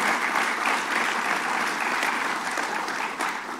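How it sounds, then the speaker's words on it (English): Audience applause for a senator at a governor's bill-signing event, a dense, steady round of clapping that stays loud and even before fading slightly at the end. "Let's give Senator Flanagan a big round of applause."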